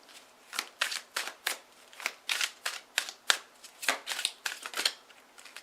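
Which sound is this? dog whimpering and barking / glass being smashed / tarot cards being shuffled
tarot cards being shuffled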